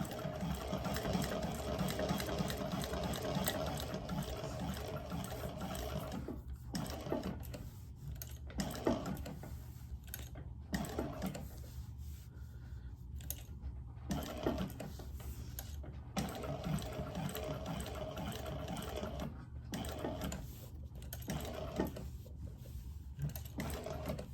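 A home sewing machine runs top stitching in rapid mechanical bursts, close and steady, with several short pauses between runs and no talking.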